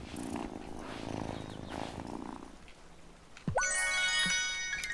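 A cat in the video game Wylde Flowers purrs while being petted, a low rumbling purr for a few seconds, then a bright chiming jingle takes over.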